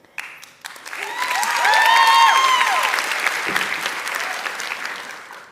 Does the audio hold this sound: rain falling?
no